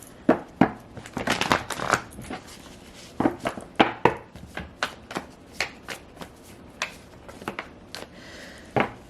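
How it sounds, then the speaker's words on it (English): Tarot cards being shuffled by hand at close range, a series of crisp riffling and snapping bursts in irregular clusters, loud against a quiet room with no talking. "Just gonna shuffle."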